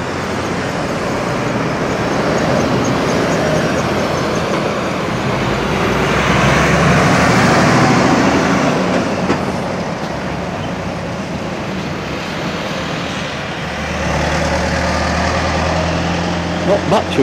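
Trucks climbing a hill on a road at Dove Holes, Derbyshire, heard as a steady roar of heavy engines and passing traffic that swells and fades, moderately loud, with some low rumble returning near the end.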